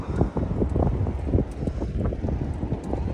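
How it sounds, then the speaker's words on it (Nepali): Gusty wind buffets the microphone with loud, uneven rumbling bursts, blowing continuously close up without any voices, outdoors near a village in Korea. "कस्तो अहिले हावा चले"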